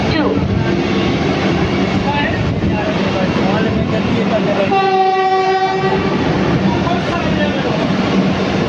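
The Mysuru to Chennai Vande Bharat express running through Jolarpettai junction without stopping: a loud continuous rumble of the passing train, with a sustained horn blast midway and station talk in the background.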